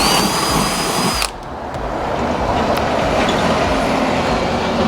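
Parkside PABS 20-Li E6 cordless drill-driver boring into dense pallet wood: a loud, high motor whine with grinding that cuts off abruptly after about a second, followed by a steady rough noise, with no talk.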